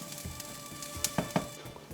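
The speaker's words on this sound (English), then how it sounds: "while the breadcrumbs are sizzling" Faint sizzling of breadcrumbs with a bay leaf frying in a pan, a soft crackle with a few small pops and clinks, heard close and quiet.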